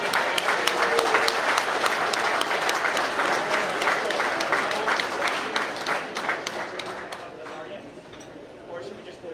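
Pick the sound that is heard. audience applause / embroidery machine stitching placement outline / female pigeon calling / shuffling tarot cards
audience applause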